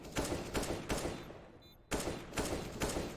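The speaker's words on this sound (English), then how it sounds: "And, Mike just taking a couple of shots here." Repeated loud gunshots in the video game CS:GO, bursts of firing at a steady rhythm with a short quiet gap midway before the shooting resumes.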